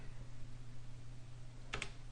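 A single quiet click of a computer key being pressed, brief and close, against a faint steady background hum.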